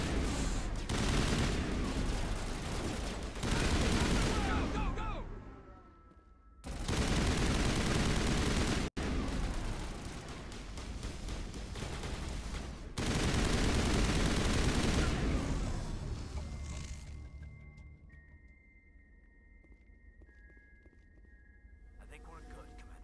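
Sustained gunfire and heavy weapon bursts from a Mass Effect Legendary Edition firefight, loud and dense in long stretches with brief gaps, fading to quieter electronic tones at the end.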